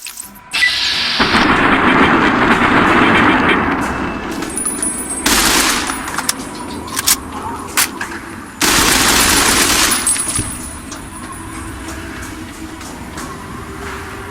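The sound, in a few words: assault rifle firing, automatic and semi-automatic, Fallout video game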